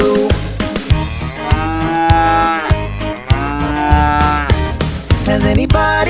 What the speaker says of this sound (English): The cow goes moo moo.